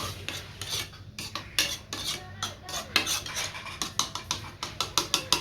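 A spoon stirring sago sarbat after green food colouring is added, clinking and scraping steadily against a glass or bowl in quick, close, rhythmic strokes with no talk.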